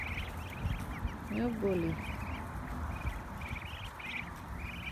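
Ducks quacking near and fairly loud, a mother duck with her ducklings, with repeated calls through the clip and a person talking over them.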